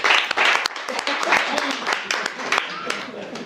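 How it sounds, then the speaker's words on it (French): Audience applause in a hall during a speech by the president of the NGO Voix de Femmes, a dense steady wash of clapping with scattered sharper claps throughout, fairly loud and close. "Grâce à M. Badou, que je demande aussi d'applaudir."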